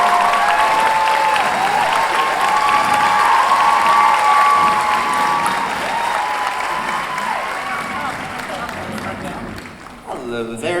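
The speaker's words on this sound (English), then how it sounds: "I don't know if you heard it because you guys were cheering" A Comic Con 2017 panel audience in a large hall cheers and applauds loudly and steadily for about ten seconds, with high shouts over dense clapping, fading near the end as a voice begins talking.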